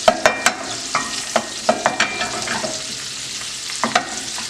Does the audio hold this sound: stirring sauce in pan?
yes